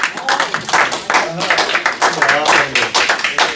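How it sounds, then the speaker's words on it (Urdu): Audience applause fills a hall at an Urdu poetry mushaira in Ealing, a dense, steady clatter of clapping that runs throughout with a voice carrying over it. "آپ کی بھرپور تالیوں میں غالب ماجدی صاحب."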